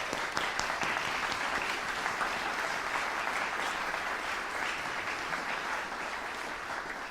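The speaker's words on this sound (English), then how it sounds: "Let's give him a big round of applause." A room full of people applauds the marketing and sales director at a young chamber musicians competition, a continuous even wash of clapping at moderate distance that holds steady for several seconds.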